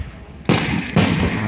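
A fireworks display at a Buddha celebration in Taiwan: two loud, sharp bursts about half a second apart, each trailing into a crackling rumble over steady background noise.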